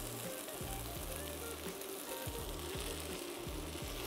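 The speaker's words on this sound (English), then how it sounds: "We've been cooking our butternut squash for a few minutes, starting to brown" Butternut squash frying and browning in a pan gives a steady soft sizzle, with a faint rhythmic mechanical hum running underneath.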